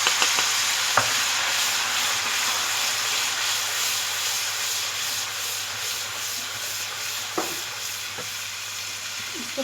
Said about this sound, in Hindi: इसको थोड़ा सा अच्छे से भून लेंगे।